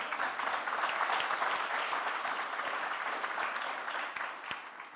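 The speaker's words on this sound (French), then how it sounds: "j'aimerais aussi qu'on applaudisse toutes les équipes de Wizville" An audience at a retail customer-satisfaction awards ceremony applauds the Wizville teams with dense, steady clapping that fills the room and holds at a high level before easing slightly at the end.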